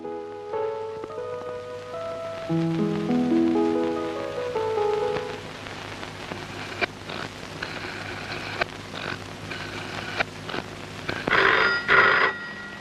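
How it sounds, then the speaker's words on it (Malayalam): A phone rings with a melodic electronic ringtone of stepped, falling tones, followed by scattered taps and patter like rain on a surface. "രജനി, ചേട്ടനായിരിക്കും, ഫോൺ എടുത്തു."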